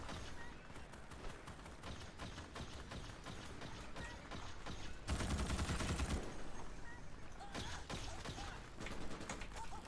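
A bug enemy in Starship Troopers: Extermination fires in rapid bursts, a dense crackling volley of gunfire that peaks loud at mid-clip amid ongoing combat noise.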